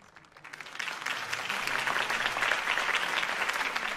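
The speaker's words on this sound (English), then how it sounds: "could have heard that applause" A crowd in the video game Batman: The Telltale Series applauds steadily, the clapping swelling over the first second and then holding at an even, moderate level throughout.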